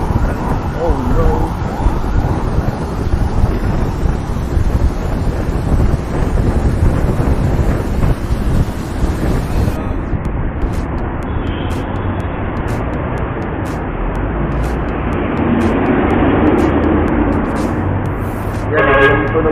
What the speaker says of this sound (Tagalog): Yan, yung tunog ng bus.